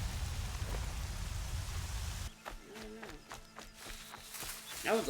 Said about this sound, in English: That was a quick rain.